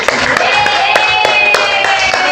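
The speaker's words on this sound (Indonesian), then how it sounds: "Oke, semuanya tepuk tangan." Group of people clapping hands together in a classroom, a rhythmic series of sharp claps at roughly steady intervals over a constant background murmur with a faint tonal hum.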